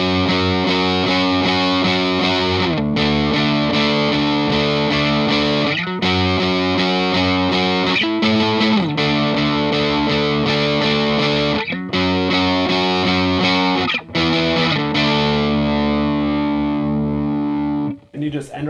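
Electric guitar with distortion and chorus effects plays a song slowly through changing chords, sustained notes ringing loud and close with brief breaks between phrases.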